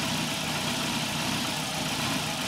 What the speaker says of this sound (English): as you hear the engine stumble, that's the Egr valve actually working.